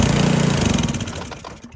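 Ariens SnoTek snowblower with a fuel delivery problem is pull-started; its small engine catches in a loud, rough, pulsing burst that fades and dies within about two seconds.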